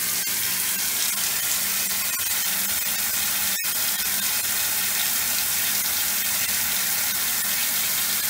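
Cold water gushes from a shower tap fitted with a shower thermometer, a steady loud hiss interrupted once by a brief click, with no talking.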